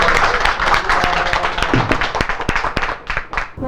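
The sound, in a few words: audience applause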